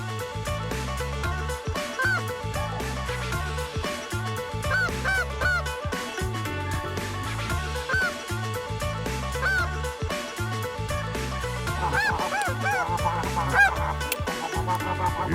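Geese honk repeatedly in a steady, overlapping chorus of calls, a flock sounding fairly close and continuous throughout.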